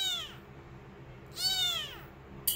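A day-old kitten gives two thin, high-pitched meows separated by a pause of about a second, close and fairly faint in a quiet room, with a tiny click at the very end.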